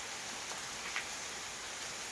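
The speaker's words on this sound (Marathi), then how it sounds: "असं मस्त पाऊस चालू आहे बाहेर" Rain falling outside a village house, a faint, steady hiss of drops heard from indoors, even and unbroken with no talk.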